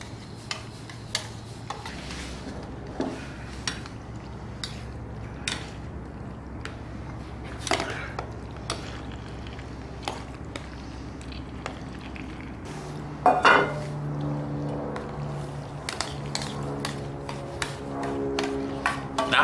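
Dry macaroni tipped into a camp cooking pot and stirred outdoors, with scattered clinks and ticks of pasta and utensil against metal over a low steady hum, ending in a louder clatter near the close.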